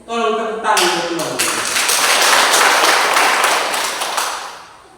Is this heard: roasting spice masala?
no